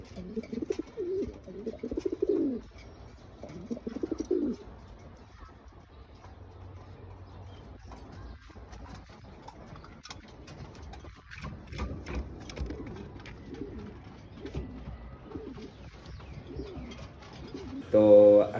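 A home-bred female racing pigeon coos in soft, low bursts, near and fairly quiet, with faint clicking and mechanical rattles around the loft in between.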